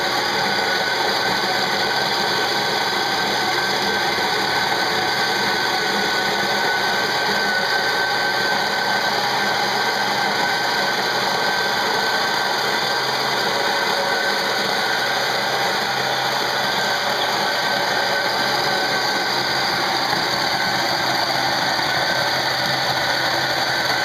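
A coffee grinder runs steadily, grinding beans for a shot of espresso on a Gaggia Classic machine; a continuous, even mechanical whir holds at constant loudness for the whole stretch with no talking.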